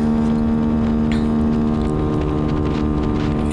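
A motorcycle rides fast, around 130 km/h, on an empty main road in Kuala Lumpur, giving a loud, steady engine drone mixed with rushing wind noise from start to finish.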